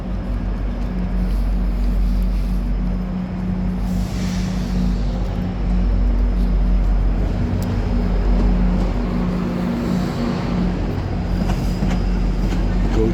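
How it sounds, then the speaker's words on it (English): A GO commuter train rolls along tracks beside the Rogers Centre in Toronto, a loud, steady rumble with a sustained low hum and rattling wheels that fills the whole stretch without letting up. "GO train passing."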